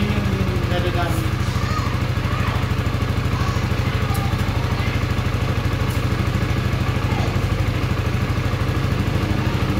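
A 2023 Yamaha Sniper 155R motorcycle engine runs steadily with a fast, even rhythmic putter and light metallic clatter from a suspected damaged clutch damper and basket, loud and close throughout, with a voice speaking faintly underneath.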